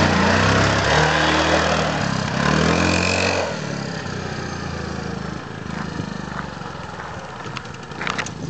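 A stock 2006 Yamaha Wolverine 450cc ATV engine runs with a buzzy, lawnmower-like drone, loud for the first few seconds, then drops to a quieter, rougher idle with scattered clicks and knocks.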